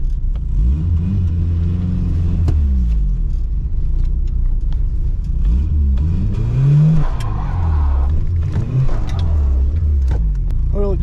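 A small 4-cylinder car engine revs hard while trying to spin oversized tires in a failed burnout attempt, a loud strained rumble rising and falling throughout, with voices talking over it.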